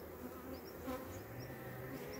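Steady buzzing from many honey bees at a hive, a continuous low drone close by with no talking.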